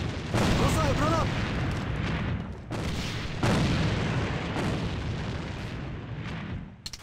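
A grenade explodes in a war video game during a chaotic battle. Heavy booms land among dense rumbling combat noise while voices shout orders.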